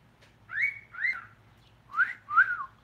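A pet bird whistles two paired phrases, each a short rising-and-falling clear note, repeated twice with a pause between, close and fairly soft over a low background hum.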